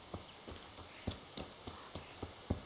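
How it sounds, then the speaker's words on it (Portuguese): Horses clip-clopping in Kingdom Come Deliverance, a steady run of distinct hoof falls about every quarter second, close and clear over a quiet background. "Uns cavalos bonitos aqui, ó."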